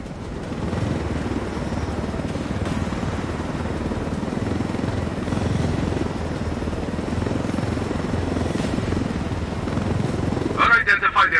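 A helicopter flies in the video game Ghost Recon Wildlands, its steady rotor drone holding loud and continuous throughout, with a brief rattling burst near the end.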